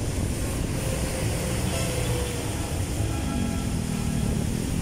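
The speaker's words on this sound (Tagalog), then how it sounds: "medyo tumila ang ulan pero may hangin, kaya yung hawak natin na payong ay tumataob." Gusty wind after rain buffets an umbrella outside Isetann Recto Mall in Manila, a loud, continuous rumbling roar with no pause throughout.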